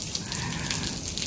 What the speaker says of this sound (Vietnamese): Chủ nhật trời mưa.